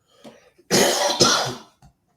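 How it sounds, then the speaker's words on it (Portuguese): One harsh, loud cough with a rough throat-clearing quality bursts out for close to a second, bracketed by faint breathy sounds just before and after. "Eita, bateu uma tosse"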